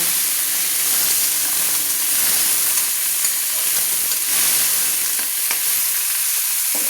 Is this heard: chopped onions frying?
yes